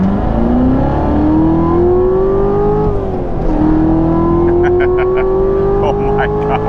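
2018 Chevrolet Corvette C7 Z06 Carbon 65 pulling hard through its gears, a loud in-cabin engine note climbing in pitch, dipping at a shift midway, then rising again.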